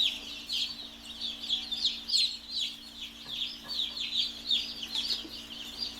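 Baby chickens peep continuously, a rapid chorus of high, thin chirps repeating close by over a low steady hum.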